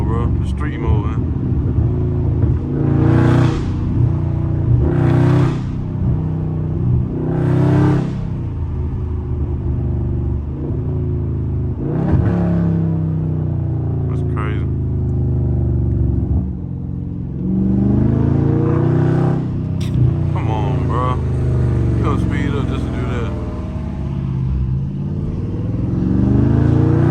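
Loud Dodge Charger Scat Pack V8 driven like a manual with downshifts, deep rumbling engine with several sharp rev blips and pulls from inside the car, while people talk over it.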